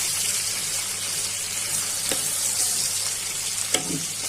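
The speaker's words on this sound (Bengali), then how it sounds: "পেঁয়াজটা ভাজা হয়ে গেছে" Onions frying in a pan give a steady, loud, close sizzle that runs unbroken throughout, with a couple of faint stirring knocks.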